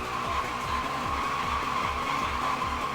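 In the Initial D Arcade Stage racing game, a Toyota Levin AE85's tires screech continuously over a droning engine, a loud, unbroken squeal with no pauses.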